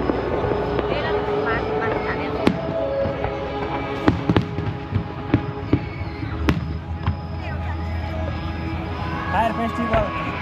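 Fireworks at the Seoul International Fireworks Festival thump and pop in scattered sharp bursts over a dense outdoor crowd hum, with people talking nearby.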